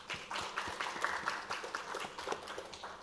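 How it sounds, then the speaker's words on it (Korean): Church congregation at a Sunday morning worship service breaking into applause, a dense, steady patter of many hands clapping at moderate volume for a few seconds. "박수 한번 칩시다"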